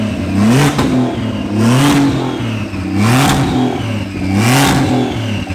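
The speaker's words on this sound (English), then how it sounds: "once the engine was warm, we gave the car some open downpipe revs" A warmed-up BMW 335i with an N54 engine, a Doc Race DR700 single-turbo kit and an open downpipe is revved four times in a row. Each loud, rising-and-falling snarl is followed by turbo whoosh and crackle between blips.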